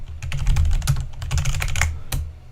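Rapid keystrokes on a computer keyboard sound close and fairly loud through a desk microphone, with each tap carrying a dull low thud from the surface beneath, ending in a final separate keypress.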